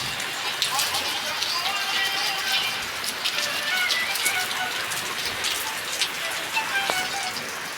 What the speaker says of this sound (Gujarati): ઉનાળો હાલે તો વરસાદ ચાલુ થઈ ગયો છે